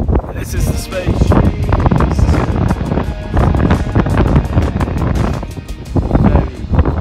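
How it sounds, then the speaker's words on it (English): Strong wind buffets the microphone outdoors on a Hebridean island, a loud continuous roar with gusty surges throughout, with no one speaking. "It's very windy."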